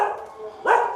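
A single short dog bark breaks in near the end, fairly close, after a low murmur of background noise, at Wat Huay Mongkhol temple in Thailand.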